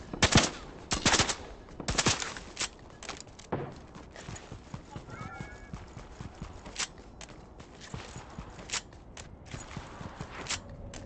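Gunfire in a Fortnite no-build duos match, sharp irregular shots and bursts scattered over a busy game background, some loud and close, others fainter.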